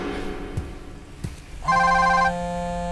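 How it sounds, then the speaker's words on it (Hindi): A telephone rings with a bright electronic warbling tone that starts suddenly and holds for over a second, then continues more softly, following a couple of faint thuds in a quiet room, with no talking. "जोकर का फोन है, रुको।"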